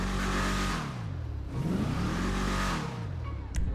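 A Bravado Greenwood muscle car engine in GTA Online revs up hard twice, rising and falling in pitch, loud and close, then cuts off with a brief mechanical click at the end.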